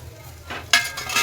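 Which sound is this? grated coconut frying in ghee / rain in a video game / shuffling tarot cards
grated coconut frying in ghee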